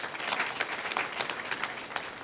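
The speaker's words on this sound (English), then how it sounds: "Let's give him a clap" Graduation ceremony audience clapping for a university official, a steady, moderately loud patter of many hands heard briefly and evenly throughout.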